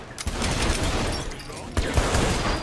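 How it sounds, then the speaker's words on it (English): A minigun fires in Saints Row 3, a dense unbroken roar of rapid gunfire that runs the whole time, with a short break midway, while voices shout over it. "Minigun, up above!"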